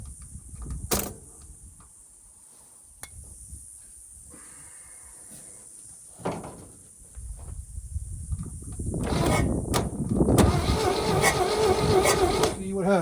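A 1969 Chevrolet C30 truck recovered from an oil field cranks over and fires up, with loud rough engine noise building in the second half after quieter clicks and rustling.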